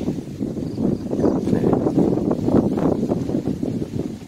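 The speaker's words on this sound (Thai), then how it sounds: "ฟังเสียงลมนะในธรรมชาติเรา" Wind gusting through tall trees in a canal-side garden near Sattahip, a steady broadband rushing that swells and eases throughout, with some microphone buffeting and no talk.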